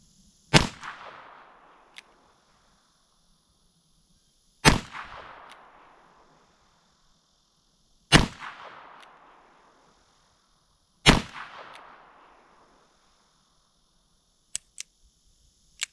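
Four loud gunshots from a Smith & Wesson 648-2 revolver chambered in .22 Magnum, spaced a few seconds apart, each with a sharp crack and a decaying outdoor echo, plus a few faint clicks near the end.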